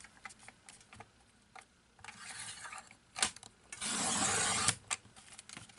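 Cardstock is cut for a Halloween double Z-fold card with a paper trimmer: scattered small taps and rubbing, then one long, loud, rasping slide of the blade, close and alone.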